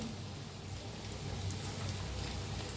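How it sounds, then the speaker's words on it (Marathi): Steady rain in Pune falls and patters on a surface, a continuous soft hiss with no other sounds. "आमच्याकडनं पाऊस पडायला लागलाय पुण्यात"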